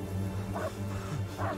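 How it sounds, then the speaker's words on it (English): A dog barks in the horror video game Blair Witch, giving a few short yips and bow-wows over a steady, droning game ambience with no talking. "What are we barking at?"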